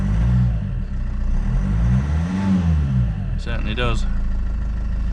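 A Ford Mondeo 2.2 TDCi diesel engine runs steadily with a low, even rumble throughout, and someone speaks briefly over it near the end.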